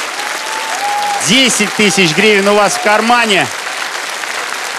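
Applause from a studio audience on a comedy TV show runs steadily in the background while someone speaks over it.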